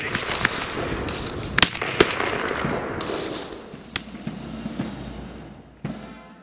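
Lee Enfield SMLE rifles fire in a rapid, irregular fusillade, with sharp cracks standing out above a dense rumble of echoing shots from a firing line. The firing carries on steadily and then thins out near the end.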